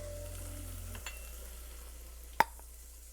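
Soft, steady sizzling of vegetables frying in a pan, with a low hum at first and a single sharp clack partway through.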